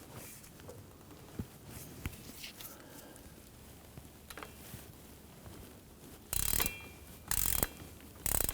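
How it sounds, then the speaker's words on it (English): Torque wrench clicking on the forward bearing cap bolts of a 2006-2010 Hummer H3 driveshaft: faint mechanical clicks and handling noise early, then three loud, close bursts of ratcheting near the end. "I'm going to torque down our forward flange bolts or our forward bearing cap bolts to 18"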